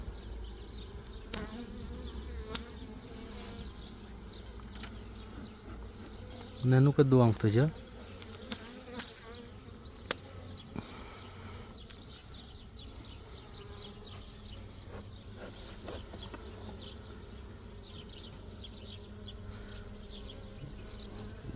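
Honeybees buzzing around a hive: a faint, steady hum with one brief, louder buzz near the middle, and a voice speaks quietly once.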